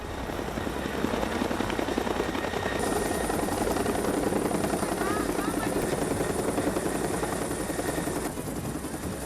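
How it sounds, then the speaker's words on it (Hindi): A military helicopter roars continuously with a dense rotor and engine drone during a Sri Lanka Air Force rescue exercise in Jaffna, loud and steady throughout. "श्रीलंका के जाफना में श्रीलंकन एयरफोर्स की ड्रिल, हेलीकॉप्टर से रेस्क्यू ऑपरेशन की एक्सरसाइज"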